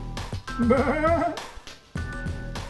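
A goat bleats once, a single wavering, quavering cry at middle distance, framed by brief knocks and rustles before and after.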